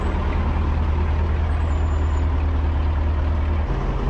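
A truck works through a tricky manoeuvre beside a ravine on an extreme off-road track, its engine rumbling steadily and loudly throughout, with a faint high whine above and a shift in the low drone near the end.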